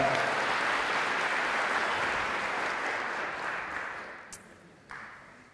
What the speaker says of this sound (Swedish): Ge honom en applåd tycker jag.